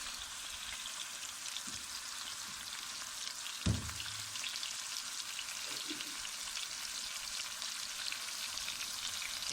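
Tomatoes with red chilli powder and salt sizzling in a pan for Lahori egg korma: a steady, moderately faint hiss of frying with a soft stirring clink partway through.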